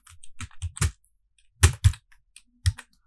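A handful of crisp keystrokes as a password goes into a computer keyboard: a quick cluster of taps, a short pause, then a few firmer presses, close and clear in a quiet room.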